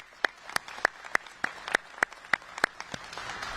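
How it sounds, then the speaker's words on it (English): Sparse applause from a small audience at a Palm Beach County press announcement, honoring sheriff's homeless outreach deputies: about ten distinct, evenly spaced claps ringing out over a quiet room, with no dense crowd roar. "Let's give those guys a round of applause."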